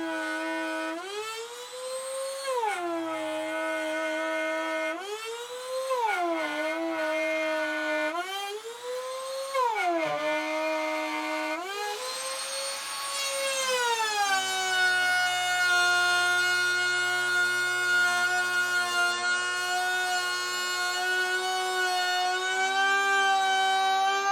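A woodworking router cutting a slot in a router table top gives a loud, tonal motor whine that dips and rises several times under load, then settles into a steady, higher sustained scream.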